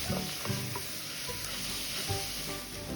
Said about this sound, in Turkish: bir iki turda havuçlarımız yumuşayana kadar kavurmaya devam ediyoruz